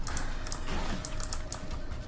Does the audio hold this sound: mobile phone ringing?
no